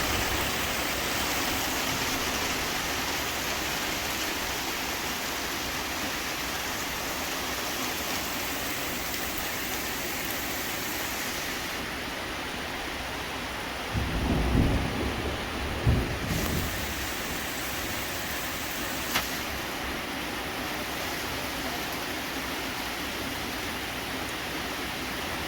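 Heavy rain pours steadily and loud across the whole stretch, with a couple of low thunder rumbles rolling in near the middle; no one speaks.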